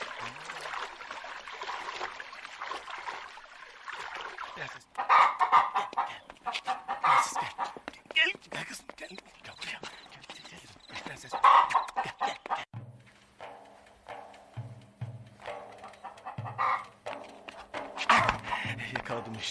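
Chickens cluck in short bursts over a busy background, with a dog-like whimper and scattered clatter, the birds fairly close.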